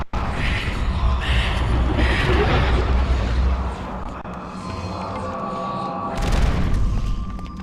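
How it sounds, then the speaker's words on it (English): Explosion in the video game Eternal Darkness: Sanity's Requiem, a loud rumbling boom sustained for several seconds, then a lull and another burst near the end. "Did they explode?"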